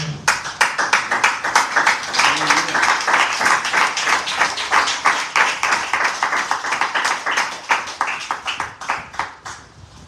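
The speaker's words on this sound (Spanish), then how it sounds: "Denle aplausos al Señor." A church congregation applauds during a sermon, many hands clapping loudly in a fast, roughly rhythmic patter that carries on for several seconds before tapering slightly at the end.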